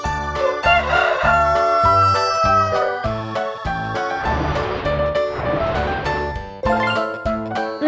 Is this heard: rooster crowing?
yes